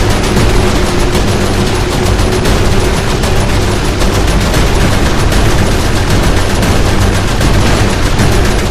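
Sustained heavy gunfire in Saints Row IV, a dense continuous barrage of rapid shots and blasts, very loud and unbroken throughout.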